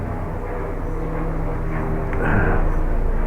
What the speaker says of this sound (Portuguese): Um helicóptero está passando